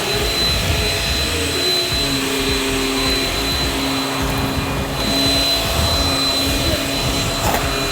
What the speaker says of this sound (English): who's gonna vacuum out the couch?